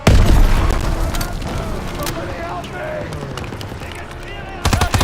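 A bomb blast in the Call of Duty video game gives a deep, heavy boom at the start, followed by rumbling debris and scattered gunfire, then another burst of sharp shots at the end. People talk faintly underneath.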